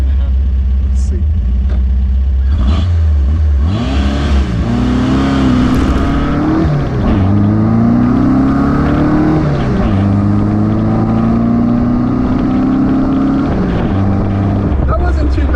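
A 1957 Porsche Speedster replica launches hard from a stop, its engine revving up in rising sweeps with each gear while the narrow tires spin, the loud exhaust note dominating close by throughout.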